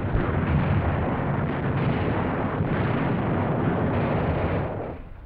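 Bombs burst near warships under a barrage of anti-aircraft flak in WWII archival footage off Okinawa, a continuous dense roar of blasts and gunfire that stays loud throughout and tails off at the very end.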